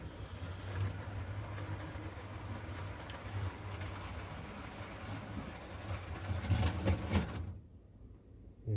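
Steady rolling rumble of a small model train running along a layout track, with a brief rattle of clicking wheels near the end before it cuts off.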